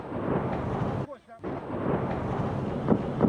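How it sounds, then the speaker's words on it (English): Russian artillery fire pounds Lysychansk, with heavy rumbling blasts and booms that fill the scene and briefly drop away before another loud barrage follows; voices are faintly mixed in. "Soldiers in Lysychansk under fire from Russian artillery."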